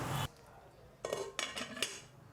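A container of lemons pickled with salt is closed with its lid in a kitchen: a brief clatter, then several light clinks and taps of the lid settling into place.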